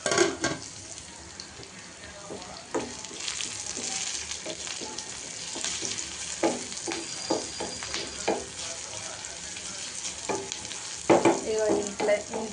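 Ingredients for ragi sangati fry in a pan under repeated stirring, with irregular scraping strokes over a continuous low sizzle, close and moderately loud.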